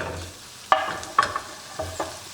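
Bacon cooking in an overheated pan, with a steady sizzle and several sharp clinks and scrapes of a utensil stirring against the pan.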